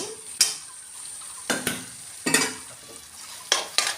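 A spoon stirs fried potatoes through spiced oil in a pan for a vegetarian Bengali curry, a handful of sharp scraping strokes at irregular intervals over a faint low sizzle, with no talking.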